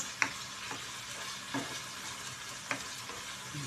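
A pan of food is stirred while cooking, giving three distinct scraping strokes spaced a second or more apart over a faint, steady sizzle, close by with no talking.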